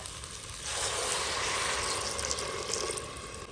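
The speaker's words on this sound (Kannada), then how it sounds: "ಈಗ ಇದಕ್ಕೆ ನೀರನ್ನು ಹಾಕುವ." Water pours steadily into a pressure cooker of masala pulao with rice for about three seconds, a close, full splashing stream that starts after a short pause, with no talking.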